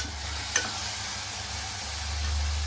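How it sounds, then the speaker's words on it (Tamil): Tomatoes sautéing in a pan for butter chicken gravy give a steady, low sizzle, with a single sharp scrape of stirring near the start, heard close and alone. "5 தக்காளி நல்லா வதங்கட்டும். நல்லா கிளறிட்டே இருக்கணும்."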